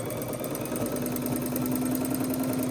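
A sewing machine stitching fabric for a bench pillow, a fast steady mechanical chatter with a humming motor tone, close and continuous with no talking.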